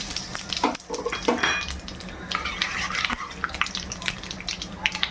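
Lightly crushed shahi jeera, black pepper and mace tipped into hot oil in a pan while cooking mutton, giving close sizzling with clinks and scrapes of a utensil against the pan.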